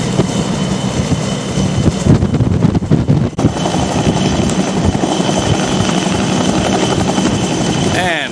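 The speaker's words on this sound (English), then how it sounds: "Helicopter is off and away." Helicopter lifting off from the deck of a ship offshore near Galveston: loud, continuous rotor and engine roar with wind buffeting the microphone and a brief dip mid-clip.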